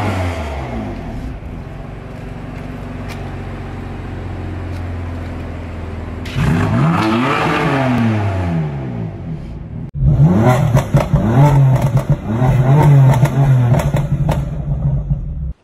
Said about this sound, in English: the M4 had no good sounds at all from the get-go until we did the mid-pipe in the tune. Then it sounded like this.